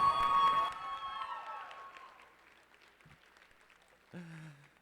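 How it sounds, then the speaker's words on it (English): A high school show choir concert audience's applause fades out over a couple of seconds into near silence, followed by a short vocal sound near the end. "Can we give them another round of applause?"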